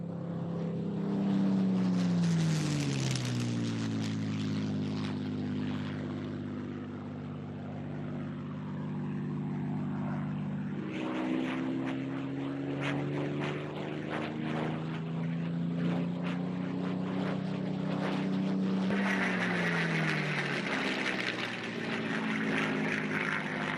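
A Supermarine Spitfire propeller fighter's piston engine drones loudly and steadily, its pitch sliding downward as the aircraft passes, with the roar swelling again on later passes.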